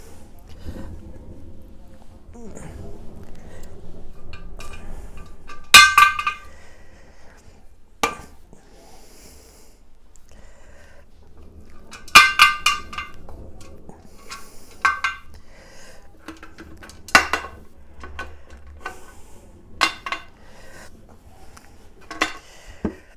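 A pressure canner being opened after canning butter: metallic clanks, scrapes and clatters of a heavy pot and lid, in irregular bursts over a quiet room, with a person talking between the sounds.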